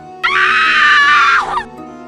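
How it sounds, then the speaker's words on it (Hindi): A loud, sustained scream sound effect in a Hindi horror story, one shrill piercing cry lasting over a second before it breaks off abruptly. It is heard alone. "पीछे से ज़ोर से चिल्लाने की सबको आवाज़ सुनाई दी।"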